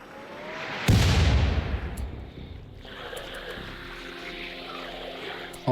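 A sudden loud blast of Rimworld gunfire erupts about a second in, then fades into a long rumbling tail and a steady low background wash, with no voices.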